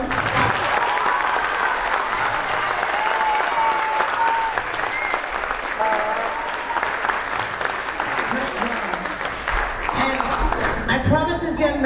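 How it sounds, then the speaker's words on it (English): Audience applauding honor band students at a school concert band performance, a steady sustained wash of clapping lasting throughout, with a voice talking over it near the end. "can we give them a round of applause?"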